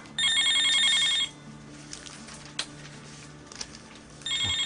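A cellphone rings with a bright, trilling electronic bell in a long burst, followed by a quiet pause with small knocks and then a second burst of the same ring.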